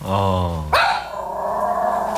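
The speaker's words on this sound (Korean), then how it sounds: "원래 이만큼 짖어요" A nervous dog at a hair salon lets out a sharp, loud bark close by after a tonal, whining lead-in, with voices heard in the room.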